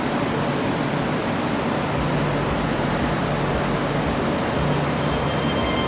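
A steady, dense rumble of a train rolling through a building in Chongqing, broad and continuous like wheels on rails heard from inside the structure, with no voices.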